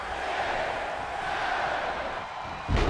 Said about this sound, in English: Crowd counting along.